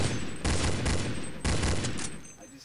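Counter-Strike zombie mode gunfire crackles in two loud rapid bursts of automatic shots separated by a brief pause, close and sharp, with players talking faintly in the background.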